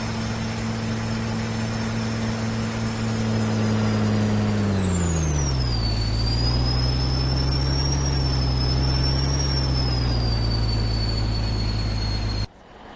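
Truck engine in Farming Simulator 19, a steady loud drone with a high whistling whine that dips in pitch partway through, then holds level before cutting off abruptly at the end.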